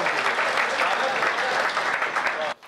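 An audience at a Hindi poetry recital (kavi sammelan) bursts into steady, dense applause, many hands clapping loudly and evenly before it cuts off abruptly at the end.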